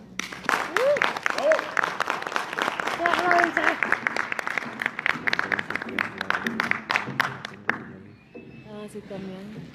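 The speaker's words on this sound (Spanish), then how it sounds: "Démosle un caluroso aplauso." A dense burst of clapping from a sizable audience at a medical lecture, sustained and steady, fading out near the end as a voice begins speaking.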